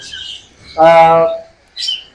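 Pet cockatiels and other caged birds at a bird farm give a few short, sharp chirps up close, one longer call in the middle flanked by brief tweets.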